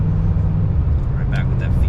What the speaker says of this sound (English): Listen to that LT motor crank out.